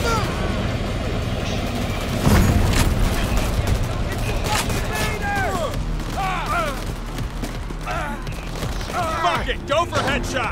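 Gunfire in the video game Payday 3 during a loud heist shootout, dense rapid shots and booms over a continuous din of action, with voices shouting throughout.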